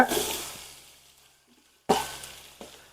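Four hundred grams of onions for biryani hit hot oil in two loud bursts of sizzling and stirring, each fading away, with a near-silent gap between them.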